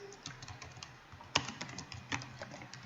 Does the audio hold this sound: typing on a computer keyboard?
yes